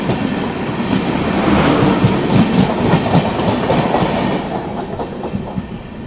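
A brand-new Kolkata Sairang Express rolls steadily along with dense clickety-clack from the wheels and a loud, continuous rumble of the coaches heard from close by, with no talking.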